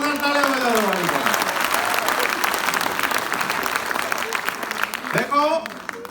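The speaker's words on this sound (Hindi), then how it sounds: "जोरदार तालियां बजाओ हमारी को।" An audience claps in sustained applause throughout, loud and dense, while a voice speaks over the clapping near the start and again toward the end.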